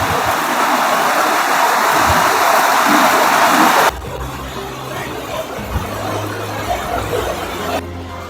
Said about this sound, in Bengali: মেঘ, তার সঙ্গে বৃষ্টি